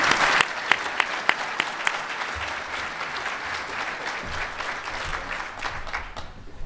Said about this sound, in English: could we have a big round of applause for Brian David Johnson?